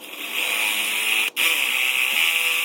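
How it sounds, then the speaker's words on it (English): A power drill with a 3/8-inch bit whines steadily at high pitch while drilling out a starter wire terminal, cutting out for an instant midway before spinning up again. "get a 3/8 drill bit, which I have, and just open this up a little bit"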